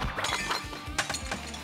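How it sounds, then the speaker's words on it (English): Plastic bottles in a video game breaking with a glassy shattering crash, a burst of bright tinkling shards followed by a second smash, close and fairly loud. "Still don't know why plastic made a glass shattering sound"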